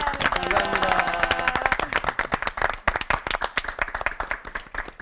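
Audience at a televised church lecture gives the pastors a hearty round of applause, dense clapping that thins into scattered individual claps over several seconds, with an earlier voice briefly underneath.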